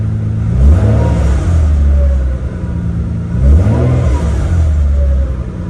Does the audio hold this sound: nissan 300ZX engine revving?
yes